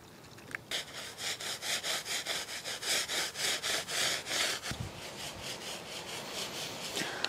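Protective coating being rubbed onto the surface of a homemade garden stepping stone, a steady run of rhythmic brushing strokes, close and fairly loud, easing into a softer continuous scrub toward the end, with no talking.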